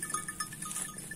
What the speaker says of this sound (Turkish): Koyunlarımızın cinsi Yalova kıvırcığı.